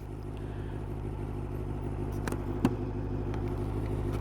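Motorcycle cruising on a long solo road ride, a steady low engine drone with a rhythmic rumble and wind, one brief clatter midway, continuous and close.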